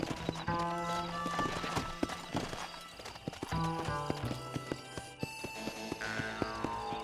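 A horse's hooves clip-clop at an easy trotting rhythm in Red Dead Redemption, mixed with the game's tonal music and a brief whinny, steady and fairly close throughout.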